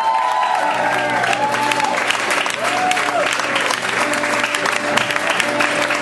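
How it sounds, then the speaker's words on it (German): An audience breaks into warm, continuous applause, a dense wash of clapping with a few cheers and tonal voices mixed in throughout. "Das verdient auch einmal einen kleinen Applaus oder einen großen sogar"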